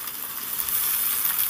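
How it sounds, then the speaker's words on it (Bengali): Chopped onion dropped into hot oil while making a spicy kundri (ivy gourd) dish, giving a steady, fairly loud hiss of sizzling that holds evenly for under two seconds with no talk. "এবার আমি কোচানো পেঁয়াজটাকে দিয়ে দিলাম।"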